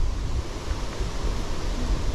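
Gusty wind by a small river, a steady low rumbling roar buffeting the microphone, broadband and continuous with no voices.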